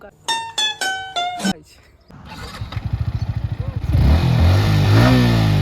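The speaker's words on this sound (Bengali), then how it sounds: "আজ কোয়েল আমাদের বাইকে করে নিয়ে যাবে" A motorcycle setting off for a ride: brief voices first, then the engine catches and pulses through quick revs before settling into a louder, steady close-up drone.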